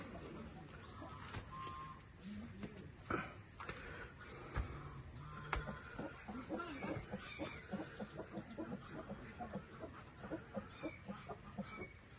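A brooding hen sitting on eggs clucks repeatedly in short, rhythmic bursts, fairly close but quiet, with some faint background noise and brief low voice sounds.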